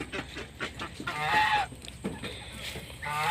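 Geese honk repeatedly in a goose pen built for egg laying, loud and close, with several overlapping honks in an irregular rhythm.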